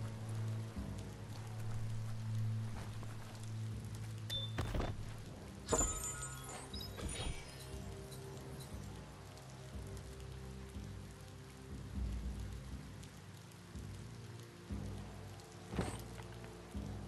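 Steady rain falls in the video game Biomutant, an even wash of patter that fills the whole stretch, with a few louder splashes or thumps standing out now and then.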